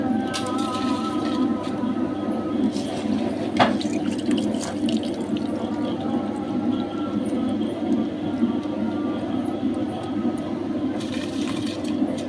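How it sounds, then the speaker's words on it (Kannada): Rice is washed in water for Muslim-style ghee rice, with a steady splashing and trickling from a tap or sink and occasional sharp clinks, no voices. "ನೀರು ಬಾಯ್ಲ್ ಆಗೋ ತನಕ ಅಕ್ಕಿ ವಾಶ್ ಮಾಡ್ಕೊಂಡು ಬರೋಣ"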